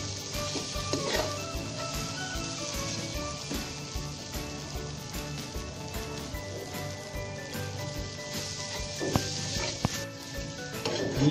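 Sweet pumpkin skin sizzles steadily in a pan, a dense continuous frying hiss with occasional sharper crackles and stirring clicks throughout.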